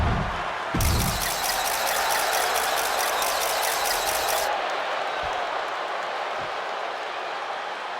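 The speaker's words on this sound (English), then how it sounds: "Tiffany Stratton getting a warm welcome from this home crowd." Arena crowd in the WWE 2K25 wrestling video game cheering a wrestler's entrance, a loud sustained roar with a bright rhythmic pulsing layer that cuts off partway, then softer crowd noise continues with a few thumps.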